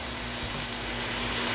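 Sugary marinade frying in a 5.5 quart Ninja Foodi Neverstick Premium skillet, a steady loud sizzle and hiss with a faint low hum, short and unbroken.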